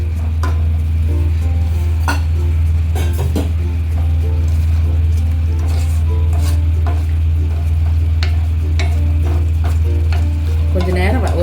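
Tomato rice sautéing in a pan, with a steady loud sizzle and frying hiss under repeated scraping and clinking stirs of a spoon against the metal, continuous and close throughout.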